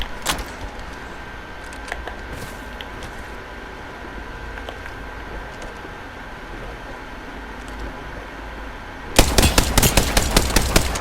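Apex Legends gunfire: after a long stretch of faint game ambience with a few isolated clicks, a loud rapid burst of regularly spaced shots erupts near the end, close and punchy.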